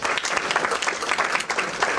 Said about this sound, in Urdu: آپ سب سے گزارش کروں گا کہ اپنے لیے بھرپور تالیاں بجا دیجیے،